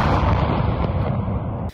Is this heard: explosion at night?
yes